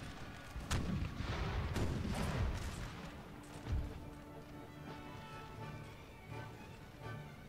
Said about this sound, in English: get a barrage off at the enemy